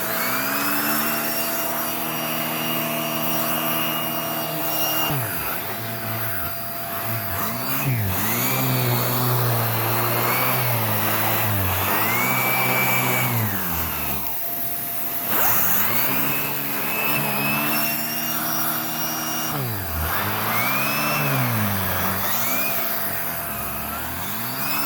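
A Hoover React Professional Pet vacuum cleaner runs steadily on a fabric couch, picking up pet hair, with a loud continuous motor whine whose pitch dips and rises as the head is pushed back and forth, no talking.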